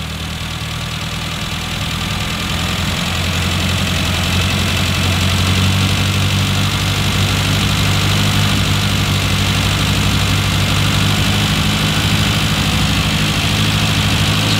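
A classic Mini engine idles close by while its carburettor is tuned, giving a loud, steady, throbbing rumble that holds even throughout.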